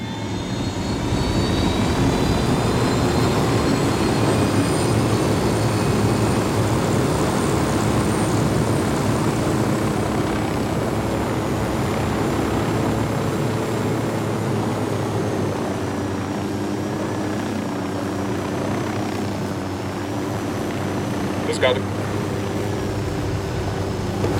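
An aircraft flies in the Ghost Recon Wildlands video game, giving a loud, steady engine roar that drones on for over twenty seconds with no talk, and a brief higher whine near the end.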